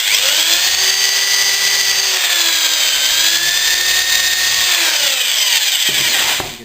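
A power drill boring through wood while building a drawer, a continuous close, loud high-pitched whine with slight pitch wobbles as the bit works through, cutting off abruptly at the end.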